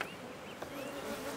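Honeybees at an eco-friendly, pesticide-free farm buzz faintly and continuously nearby, with soft wingbeat drones rising and falling as individual insects pass.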